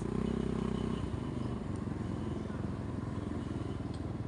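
A family motorcycle at a night-time town plaza runs with a steady, low throbbing idle, close by and continuous, with a brief louder burst at the start.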